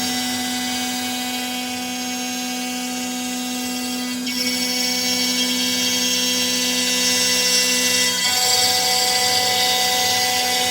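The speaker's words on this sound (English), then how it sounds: "The spindle should start. And now it's going to plunge." A ShopBot CNC router spindle runs steadily as it plunges and cuts a bevel around a workpiece perimeter, a loud sustained high whine with strong tonal hum that shifts pitch partway through.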